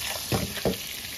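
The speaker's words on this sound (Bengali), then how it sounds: "অল্প লবণ আর অল্প হলুদ দিয়ে ভেজে নিচ্ছি" Eggplant fries in hilsa fish oil with a little salt and turmeric, giving a brief, quiet, steady sizzle broken by two short stirring scrapes.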